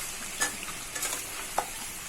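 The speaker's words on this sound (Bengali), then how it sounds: "আমি আরেকটু ভেজে নেব।" Beef kala bhuna frying in a pan, a low steady sizzle with a few brief stirring scrapes and clinks, close and fairly quiet, no talking.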